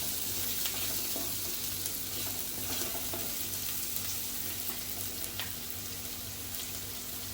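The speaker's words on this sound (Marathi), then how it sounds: "तर हळद घालायची तेलावरती चांगली परतून घ्यायचे" Turmeric fries in hot oil while bitter gourd bhaji is being made, giving a continuous close sizzle with faint stirring scrapes and a low steady hum underneath, with no talking.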